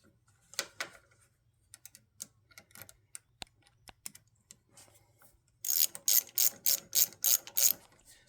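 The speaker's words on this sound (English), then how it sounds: "Simply slips on and you tighten your clamp." A hose clamp on the upper radiator hose of a Dodge RAM 1500 is tightened with a ratcheting tool, giving sparse clicks and ticks, then a quick, louder run of rapid ratchet strokes near the end.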